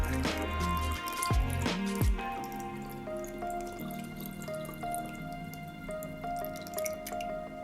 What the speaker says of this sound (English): You use your funnel, put a little strainer in there, and start pouring your alcohol into those bottles.